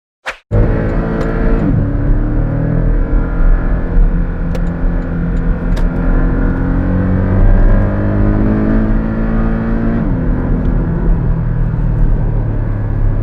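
Porsche 718 Cayman GTS engine, a sharp click followed by a loud sustained rev held at high RPM, a rich buzzing drone with rising and falling tones, close and continuous.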